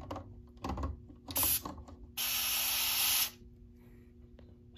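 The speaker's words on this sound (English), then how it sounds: "I'm going to activate the smoke detector by just spraying some smokes." A few mechanical clicks, then two bursts of hissing aerosol test smoke sprayed at a smoke detector, the second longer at about a second, close by and followed by quiet.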